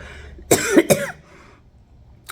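Two quick coughs close together, near and fairly loud, followed by quiet and a faint short sound at the end.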